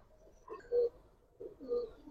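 Giribaz pigeons, Army and Silver birds in a collection, give two soft, low coos about a second apart, close by and quiet, with no talking.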